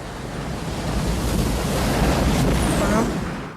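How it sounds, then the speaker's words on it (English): Ocean surf from a massive tsunami after a comet fragment strikes the Atlantic Ocean, a continuous broadband roar of crashing water and wind that swells slightly and holds steady throughout. "the film ends with a piece of the comet landing in the Atlantic Ocean, causing a massive tsunami"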